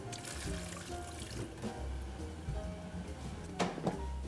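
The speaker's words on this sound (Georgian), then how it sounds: "წყალს დავასხამთ და დავადგამთ" Water poured into a pot of quince in a kitchen, a soft continuous trickle and splash, fairly quiet, with a few light clinks.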